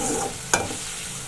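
A short scrape of a spoon stirring masala into sautéed okra in a sizzling pan, with steady frying hiss underneath.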